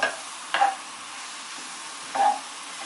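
Two short, soft sizzling bursts as leeks hit a hot pan over fairly high heat, separated by a quiet stretch of low frying noise.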